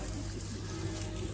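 Oars working a small rowboat on a lake with several people aboard, low watery swishing and dull knocks under a soft, steady background hum.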